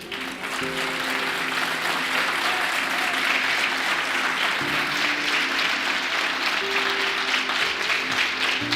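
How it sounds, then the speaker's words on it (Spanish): A church congregation claps in a long, steady round of applause over music playing beneath, with rhythmic bass and sustained tones running throughout. "Alguien que le dé un aplauso al Señor."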